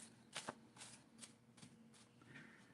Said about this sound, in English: I shuffle my cards like this.